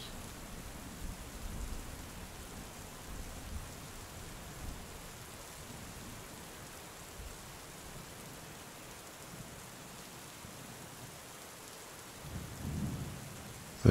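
Rain falling through a thunderstorm, soft and fairly distant, with low swells of thunder rumbling now and then beneath a steady hiss.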